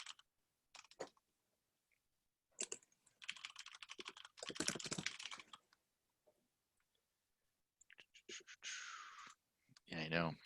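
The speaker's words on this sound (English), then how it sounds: "I'm typing stuff as we're signing off." Quick bursts of clattering computer keyboard typing, close to the microphone and separated by pauses, with a brief voice near the end.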